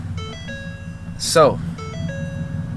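A Ford truck sounds its startup chime as it is switched on: a steady pattern of bright electronic tones that pauses and then repeats. A short swooping sound falls in the middle, and someone speaks briefly.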